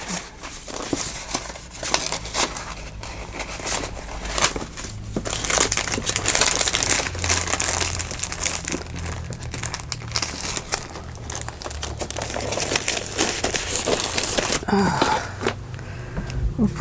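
Paper being crumpled and crushed by hand at a crafting table while assembling an envelope journal, a steady loud crinkling and rustling that runs nearly continuously with brief pauses.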